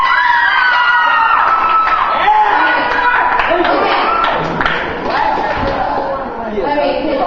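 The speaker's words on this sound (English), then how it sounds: "Give a round of applause to our..." A youth group audience applauds and cheers, with mixed clapping, shouts and children's voices and a few sharp knocks forming a lively, loud crowd din that fades slightly near the end.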